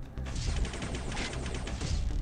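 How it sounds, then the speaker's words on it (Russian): Rapid machine gun fire in the Cyberdino T-Rex video game, a loud, continuous burst of dense crackling shots with no pauses. "А вот здесь уже стоит врубить пулемет."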